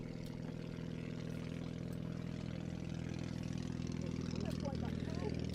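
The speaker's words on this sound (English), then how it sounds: "How on earth did that aircraft take off?" A light aircraft powered by a 3-horsepower flat twin motorcycle engine drones steadily in the distance, a faint buzzing hum that swells slightly toward the end, with speech over it.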